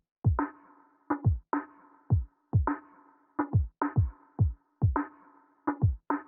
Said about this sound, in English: And then I also created this electronic drum loop with my own samples.